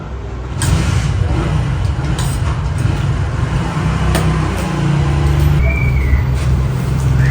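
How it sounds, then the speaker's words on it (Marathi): Constant street traffic on a busy road in India: a dense, steady wash of car, bus and truck engines passing close by, with occasional hissing bursts like air brakes, and no clear speech. "तुम्हाला भरपूर गाड्यांचा आवाज येत असेल आता बोलताना कारण की गाड्या ना सतत चालू असतं इथे"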